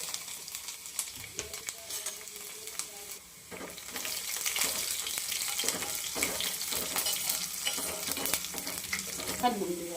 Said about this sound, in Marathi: लसूण बारीक केलेला नाही का लसूण टाकून घेऊयात आपण ह्याच्यात